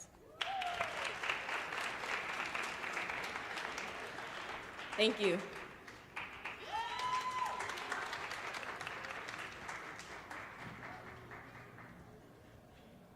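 An audience at a Martin Luther King Jr. celebration applauds after the final winner is named, a sustained, fairly soft patter of many hands. A few brief spoken words rise above it.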